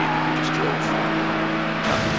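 A Porsche 911 Turbo engine in the video game Need for Speed Hot Pursuit 2 drones steadily at high revs, then shifts and surges near the end, with someone talking over it.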